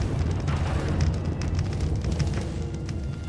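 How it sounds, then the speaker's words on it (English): Crackling electric sparks with low rumbling thunder from lightning hazards in a horse riding video game, a steady dense roar with sharp crackles throughout, no talking. "I like the sound that they chose, the crackling and the thunder."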